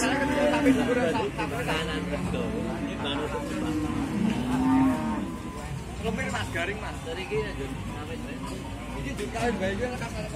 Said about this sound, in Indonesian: Ini di sebelah sini adalah sapi betina milik Bapak Warjiman